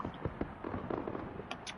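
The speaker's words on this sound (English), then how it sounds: "I'm stuck on just looking at the fireworks going off in the background" Fireworks bursting in the background of a Formula 1 racing video game at the Bahrain circuit, a quick series of sharp pops and crackles at moderate distance, irregularly spaced over a steady low rumble.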